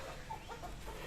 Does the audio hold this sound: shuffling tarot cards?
no